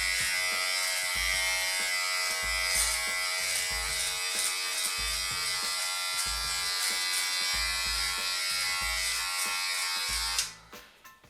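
BaByliss Precision beard trimmer buzzing continuously at close range while trimming a beard, with slight pulsing as it moves over the hair, before switching off near the end with a click.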